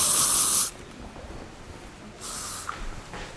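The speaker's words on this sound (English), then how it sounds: "letting the hairspray just settle in between the curls" Hairspray misted over freshly curled hair in a styling session: two loud, hissing spray bursts, one at the start and another about two seconds later, with quiet pauses between.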